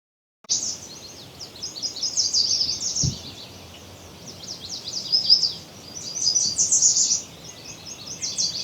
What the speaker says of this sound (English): These birds are signaling the beginning of the start times.